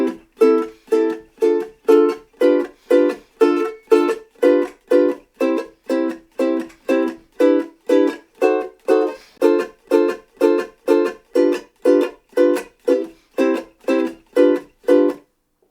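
A ukulele plays the intro to a song in a ska strum, crisp offbeat chord chops repeating in a steady, even rhythm, close and bright with nothing else underneath.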